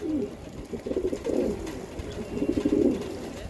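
Racing pigeons from an established club coo in repeated low, throaty bursts close by, with short pauses between the rolling calls and no talk over them.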